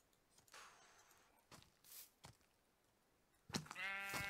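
A sheep bleats in a video game, one wavering bleat at the end after a few soft footsteps and thuds in an otherwise quiet scene.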